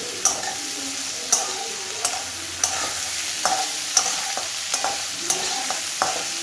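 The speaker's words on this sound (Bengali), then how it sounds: "তো ভালো করে পেঁয়াজগুলোকে ভাজা ভাজা করে নিতে হবে।" Onions sizzle steadily in a pan for a chicken curry while a utensil scrapes and knocks against the pan at a regular pace, a sharp tap roughly every second over the constant frying hiss.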